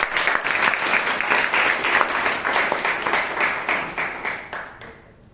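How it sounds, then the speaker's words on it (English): A Toastmasters meeting audience in Bangalore gives a big round of applause: dense, steady clapping from many hands that holds for several seconds, then thins and fades out near the end. "Give him a big round of applause."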